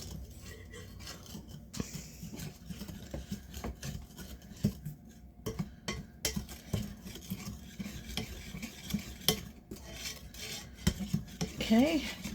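A spoon stirs cake batter in a bowl, with steady scraping and knocking against the sides and faint clinks, close and fairly quiet with no talking.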